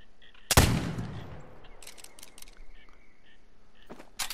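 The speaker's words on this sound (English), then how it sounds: "I think I'm going to go for the shot here" A single loud rifle shot cracks out close by and rings off into a long decaying echo, aimed at a bull in a New England mountain hunting game; faint clicks and soft speech follow.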